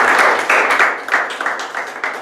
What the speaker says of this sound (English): let us give him for that a big round of applause